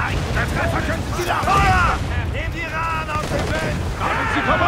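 Ship cannon fire during a naval battle in the Assassin's Creed IV Black Flag video game, heavy booming volleys over rumbling noise while voices shout throughout.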